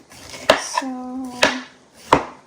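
A knife chops peppers on a cutting board in a home kitchen, three sharp, evenly spaced thuds about a second apart. The sound is close and distinct, with a brief tonal ring between strokes.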